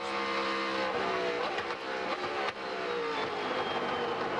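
Open-wheel Infinity Pro Series race cars at the 2005 St. Petersburg street circuit, engines droning loudly and continuously with rising and falling pitch as cars accelerate and pass, alongside crowd-like ambient noise.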